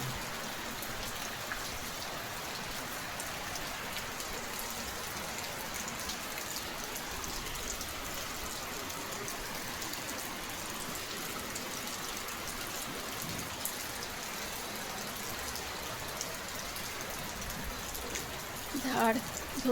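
Steady rain falls outside on a calm, windless night, a dense continuous hiss of drops on surfaces that holds level throughout, with a few faint nearby knocks near the end.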